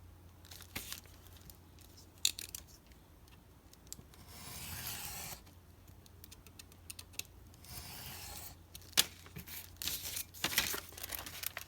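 Quiet crinkling and scraping as scissors cut through cellophane on a paper envelope, a series of soft, irregular rustles and snips close by with no talking.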